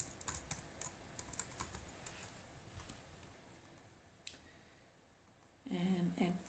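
Quick, irregular clicks of typing on a computer keyboard, a run of keystrokes that thins out and pauses, then a louder burst at the end, with a voice briefly heard.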